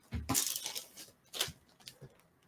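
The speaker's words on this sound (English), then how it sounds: "They just kind of push them closed. So you'll hear it still clicking when you do it." A plastic do-it-yourself comic book slab gives a few sharp, faint clicks and snaps as its halves are pushed closed by hand, close up with no talking.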